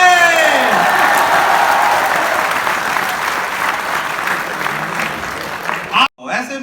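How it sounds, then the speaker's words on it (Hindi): A live audience at a Hindi comedy laughter show breaks into loud, sustained applause that carries on for about six seconds, then cuts off as a voice briefly starts. "ताली बजा ले।"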